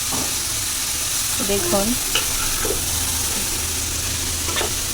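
Chicken with turmeric frying in a pan, a continuous loud sizzle with spoon-stirring scrapes and clinks, and a brief spoken word partway through.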